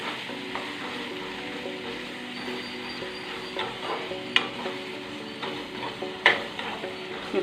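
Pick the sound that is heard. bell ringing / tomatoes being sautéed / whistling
tomatoes being sautéed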